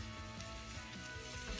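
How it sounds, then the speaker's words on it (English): A skillet sautés fish-and-rice ingredients with a quiet, even sizzle that holds steady and close throughout, with no voices. "I'm gonna let this saute for about 2 to 3 minutes"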